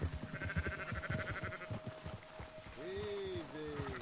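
Sheep in Red Dead Redemption 2 bleat in a couple of wavering calls near the end, following a stretch of hoof clip-clop from a horse trotting behind the flock.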